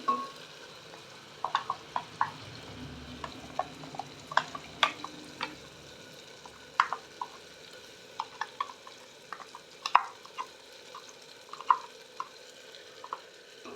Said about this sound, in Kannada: ಇವಾಗ ನೋಡಿ ನಾನು ರುಬ್ಬಿಟ್ಕೊಂಡಿರೋಂಥ ಮಸಾಲೆನ ಸೇರಿಸ್ತಾ ಇದ್ದೀನಿ